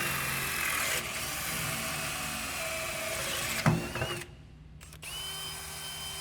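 A power drill bores a hole through a composite utility pole, a steady whirring grind that runs for several seconds, surges briefly, then cuts out and leaves faint background noise.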